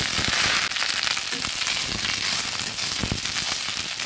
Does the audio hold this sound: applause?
no